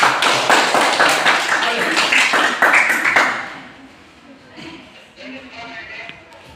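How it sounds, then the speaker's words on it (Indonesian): Classroom students clap together for a classmate, a dense burst of fairly close hand claps for about three seconds that then stops, leaving faint room noise and a quiet voice. "sekali lagi tepuk tangan untuk temanmu"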